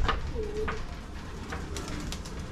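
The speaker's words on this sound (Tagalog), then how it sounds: "Napakakapal po ng mga ibon po natin!" A flock of racing pigeons coos and calls softly amid a busy outdoor background, with a few brief bird sounds scattered over a couple of seconds.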